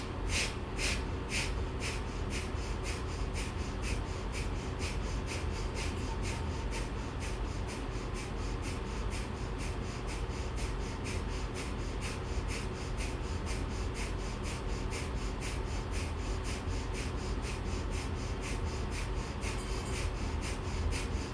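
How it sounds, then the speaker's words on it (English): Rapid, rhythmic yoga breath of fire, short forceful nasal exhales pulsing steadily for about twenty seconds over a constant background, no talking. "Breath of fire."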